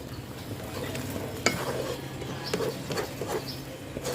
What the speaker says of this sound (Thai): ใส่ไข่ลงไปเลยค่ะ แล้วก็ผัดคลุกเคล้าได้เลยนะคะ